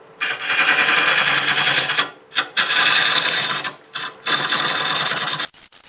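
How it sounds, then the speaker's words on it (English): Bowl gouge (5/8 swept-back) cutting end-grain apple wood on a lathe, a loud broadband rushing scrape in three long passes separated by brief pauses. "I'm going to switch to my 5/8 swept-back bowl gouge, and I'm going to start cutting up towards the other end"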